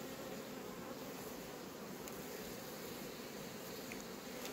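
Honeybees hum in a steady, dense buzz around a brood frame carrying capped brood and honey, lifted from a beehive; the drone is continuous, fairly faint and close, with no voices.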